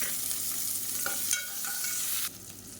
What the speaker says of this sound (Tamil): பொடியாக நறுக்குன்னா சின்ன வெங்காயம் ஒரு கைப்பிடி அளவுக்கு சேர்த்துக்கலாம்